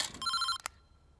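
A telephone rings in a quick electronic burst of repeated bright tones lasting about half a second, followed by a short click and then near silence.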